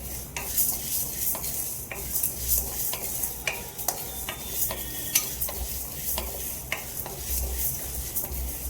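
Pumpkin stew (gummadikaya pulusu) ingredients frying on a low flame while a spoon stirs them in the pan, giving a soft continuous sizzle broken by regular metallic scrapes and taps against the vessel, heard up close with no voices.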